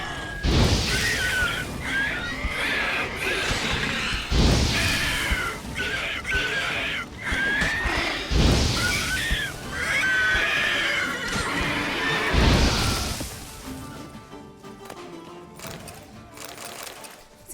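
Horse whinnying in the video game The Witcher 3, Blood and Wine expansion: several loud, drawn-out neighs spaced a few seconds apart, fading toward the end with no talk over them.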